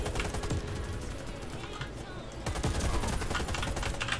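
Rapid bursts of automatic gunfire from a Warface online shooter match, dense and continuous with a short lull midway, loud and close, with a player's voice talking over it.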